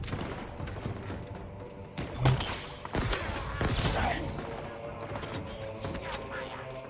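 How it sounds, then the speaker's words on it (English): A shotgun pistol firing in a Halo game, several punchy blasts with low thumping bodies, spaced irregularly over game ambience, moderately loud, with someone talking throughout. "This little shotgun pistol's pretty good. You can land the hits."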